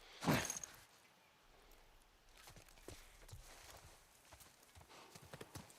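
Horse hooves clip-clop at a steady walking pace in the video game The Last of Us Part I, after a sharp bright noise at the start, fairly faint with little else around.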